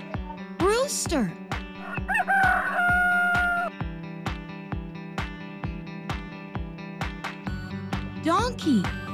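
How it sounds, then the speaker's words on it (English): A rooster crows with a harsh rising then falling call, repeated near the start and again at the end, over a steady regular beat of background music. "Rooster."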